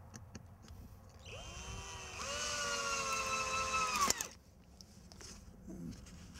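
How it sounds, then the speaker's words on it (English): A power drill drives a sheetrock screw into the frame of a raised garden bed, a steady rising whine lasting about two seconds that ends abruptly, heard up close. "So I'm just going to attach one sheetrock screw on the bottom end."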